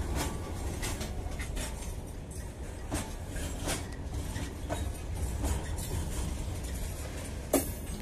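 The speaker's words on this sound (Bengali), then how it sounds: "গরিফা থেকে হালিশহর লাইনের মধ্যে মালগাড়ি চলাচল" A steady rumbling roar of a freight train rolling past on the Garifa–Halisahar line, with occasional metallic clinks and clacks rising over the continuous low noise.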